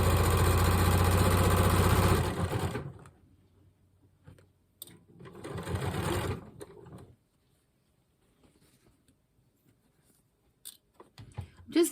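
A sewing machine chain-pieces small quilt fabric pieces. It runs in a loud burst for about two seconds, stops, then gives a second shorter burst with brief quiet handling noises between the runs.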